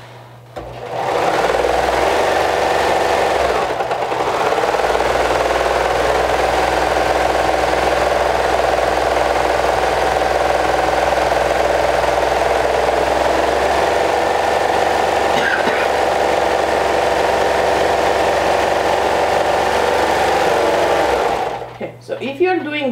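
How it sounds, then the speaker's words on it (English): A sewing machine runs continuously, stitching hood pieces together along a half-inch seam, its loud steady motor hum and rapid needle chatter holding for about twenty seconds before stopping. "I'm going to sew along the back, the top and the back, with a 1/2 inch seam allowance"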